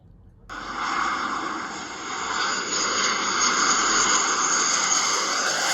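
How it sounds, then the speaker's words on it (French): A steady, loud jet roar from an F-18 fighter landing at an airport that also serves civil flights, starting abruptly and holding a broad whooshing rumble throughout. "l'atterrissage d'un F-18"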